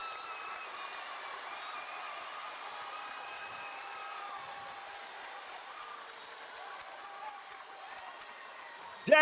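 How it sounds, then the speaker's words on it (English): A high school state wrestling finals crowd cheers and applauds after a championship win, a broad, fairly distant wash of applause that holds steady and swells near the end. "Listen to the crowd."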